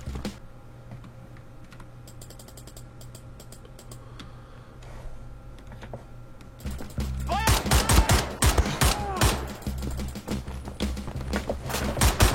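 Gunfire from the old-school Wolfenstein video game starts faint and sparse, then breaks into loud, rapid bursts of sharp shots over a low steady hum during the second half.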